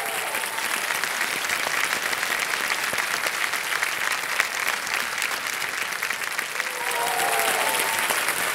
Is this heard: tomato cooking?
no